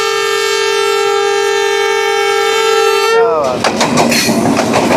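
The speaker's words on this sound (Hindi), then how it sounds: "40 डाउन जाफर एक्सप्रेस 10:06 पे आ रही है, और यहाँ पे इसका थ्रू पास होगा।" The Jaffar Express train sounds a long, loud, steady horn as it comes through a station at speed, then the horn breaks off into the rushing rumble and clatter of the train passing close by.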